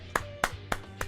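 Four sharp hand claps at a steady, slightly slow pace, close and fairly loud, with a faint low hum underneath.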